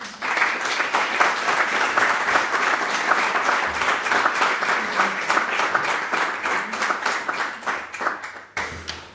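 Sustained audience applause after a talk at a literary event in a hall, steady dense clapping from many hands, loud and close, continuing for several seconds with no speech over it.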